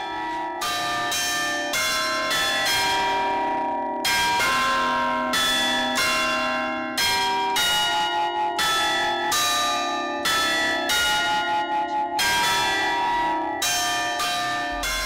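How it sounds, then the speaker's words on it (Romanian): A clock carillon of eight tuned bells in a palace tower plays the Hora Unirii melody, a sequence of ringing bell strikes in a rhythmic pattern, each note resonating before the next, with no voices. "Carionul ceasului este un sistem de 8 clopote acordate."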